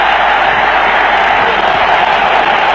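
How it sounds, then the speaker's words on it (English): A large cricket stadium crowd roars after a batsman is bowled, a loud, steady, unbroken wash of cheering that holds at full strength throughout. "just listen to the crowd"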